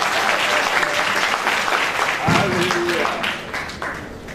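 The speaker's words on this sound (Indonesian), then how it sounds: "Tepuk tangan untuk semua pembicara kita." A crowd at a Christian–Muslim debate applauds all the speakers, loud sustained clapping from many hands with some voices mixed in.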